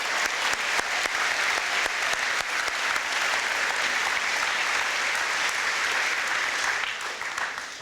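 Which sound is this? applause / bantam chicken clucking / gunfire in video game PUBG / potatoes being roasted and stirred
applause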